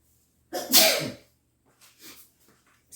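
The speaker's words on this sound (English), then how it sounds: "hold on, I gotta sneeze." One loud sneeze bursts out near the start, followed by a few quieter breaths and sniffs.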